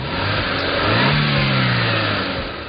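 A 2009 Pontiac G3 Wave's 1.6-liter four-cylinder engine with a four-speed automatic accelerating, its loud, close drone rising in pitch through a gear and then easing, with no talk.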